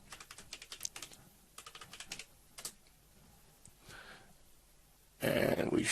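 A user password is typed on a computer keyboard at a Debian Linux login screen, with quick bursts of close, soft key clicks and pauses between them, followed at the end by a louder, steady noise.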